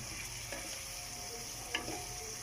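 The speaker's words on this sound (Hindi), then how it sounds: "जितनी देर मैं मटरों को भूनती हूँ" Peas frying in a spice masala for kachnar matar, a continuous soft sizzle with light stirring and one small utensil tap, heard close with no talking.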